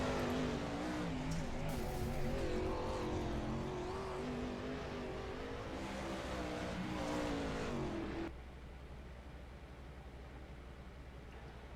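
410 sprint race cars run on the Kokomo dirt track, a dense, loud engine roar that holds steady for about eight seconds before dropping abruptly to a much quieter low hum.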